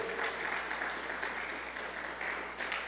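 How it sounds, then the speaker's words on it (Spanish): A church congregation claps for Jesus during a service, a fairly faint but continuous wash of clapping that keeps going throughout. "dale palmas a Jesús"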